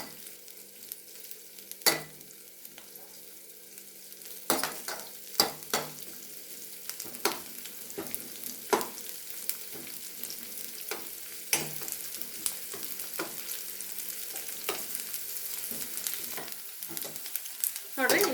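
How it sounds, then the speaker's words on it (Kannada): Green chillies and onions frying in oil in a pan, a steady soft sizzle with repeated scraping clicks of a spoon stirring, close and fairly quiet throughout. "ಒಂದು ಎರಡು ನಿಮಿಷ ಇವನ್ನ ಎಣ್ಣೆ ಒಳಗೆ ಚೆನ್ನಾಗಿ ಫ್ರೈ ಮಾಡ್ಕೊಡ್ರಿ"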